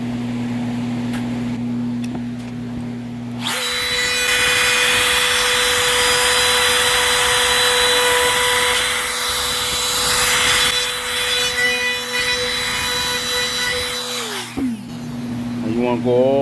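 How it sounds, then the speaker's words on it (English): A router trims the edge of a small custom countertop, its loud high whine starting abruptly and holding steady for about ten seconds before spinning down, with a low electrical hum before and after. "And you want to go all the way around with the router."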